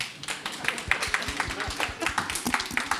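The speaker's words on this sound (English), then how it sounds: "Give it a round of applause." A small audience at a talk on Shaker communities claps in a light, rapid patter that stays fairly soft and even for a few seconds.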